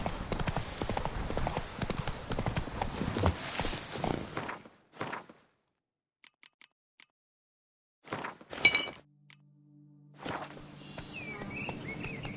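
Roach the horse's hooves clip-clop in Witcher 3, a quick busy run of hoofbeats that stops abruptly into near silence, followed by a few isolated clicks, a short clatter, then a low steady hum.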